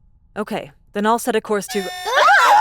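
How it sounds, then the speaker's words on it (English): Spaceship alarm effect in a LitRPG science fiction audiobook, a loud wavering electronic siren rising abruptly at the end right after a narrator's voice. "Oh, no! That's the alarm!"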